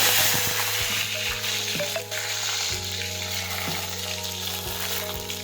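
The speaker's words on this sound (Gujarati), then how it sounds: "રાઈ અને જીરું નાખીશું. મરચી નાખીશું. લીમડો નાખીશું." Mustard seeds, cumin, green chili and curry leaves sizzle and crackle in hot oil, a steady bright frying hiss with scattered pops and occasional stirring, close and continuous with no talk.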